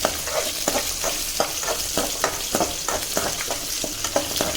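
Onions fry in a pan for Coimbatore Annapoorna hotel-style sambar, stirred with a ladle in a rhythmic series of close scraping strokes over a steady sizzle, no one speaking.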